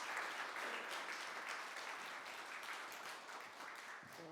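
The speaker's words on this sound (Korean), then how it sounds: "우리 이 시간 목사님 강단으로 올라오실 때 뜨거운 격려의 박수로 환영하도록 하겠습니다" A church congregation at a Sunday service claps to welcome a pastor to the pulpit, a soft, steady spread of applause heard from a distance.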